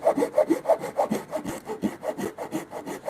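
A handsaw cuts through timber along a marked line for a timber-frame bunk bed, giving a steady rhythmic back-and-forth rasp of about ten close, loud strokes with no talking.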